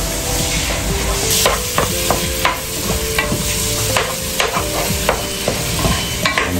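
Spaghetti sizzles in a frying pan as a utensil stirs it, giving a constant loud frying hiss broken by repeated scraping clicks against the pan, with no talking.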